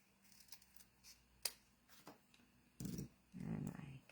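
Scissors snip a thin strip of craft material for a treat holder, a few quiet scattered snips followed by louder rustling handling of the cut piece, faint and close with no talking.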